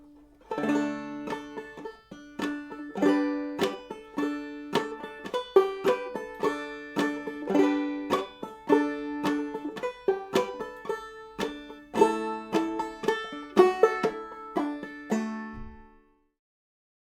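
A clawhammer banjo plays Big Rock Candy Mountains from measure 13, bright plucked notes and brushed strums in a bouncy steady rhythm, close and moderately quiet, ringing out to silence at the end.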